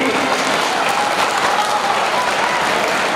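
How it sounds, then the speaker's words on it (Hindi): A crowd at a school annual function applauds loudly, a thick, continuous wash of clapping hands with little variation for its whole length. "एक बार सभी जोरदार तालियां बजाए विकास भैया के लिए"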